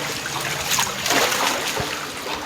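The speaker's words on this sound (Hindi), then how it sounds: "देखो मेरे घर में इतना पानी भरा, इतना पानी।" Monsoon floodwater standing inside a house, with steady trickling, sloshing and splashing of water throughout, fairly close, under a continuous wet background wash.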